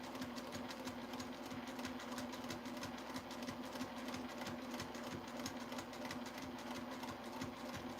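A sewing machine stitches a taco cord keeper with a steady rapid needle chatter and a constant motor hum running close and unbroken throughout, with no talking.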